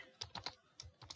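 Typing on a computer keyboard while entering a SQL query: about six crisp, close key clicks in an uneven rhythm, with no talking.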